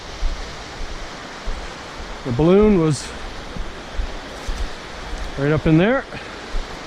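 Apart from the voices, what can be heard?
waterfall in Algonquin forest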